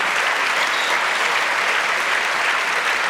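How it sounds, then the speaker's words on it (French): A studio audience on a French television show applauds a sculptor-singer, with dense, steady clapping filling the room at full volume throughout. "applaudissements pour ce sculpteur chanteur"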